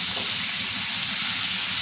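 Green chillies sizzle in hot oil, a loud, steady hiss that fills the whole clip with no break and no voices.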